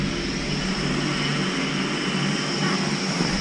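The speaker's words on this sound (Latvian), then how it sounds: "atnāca mūsu lidmašīna" An airplane arrives at an airport in northern Norway, a loud continuous engine roar and rumble heard steadily from start to finish, without speech.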